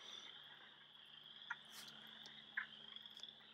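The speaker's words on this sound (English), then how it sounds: "that clucking sound are the male wood frogs calling for the females" Faint, distant clucking calls of male wood frogs rise in short bursts over a steady high insect-like drone, with no voices present.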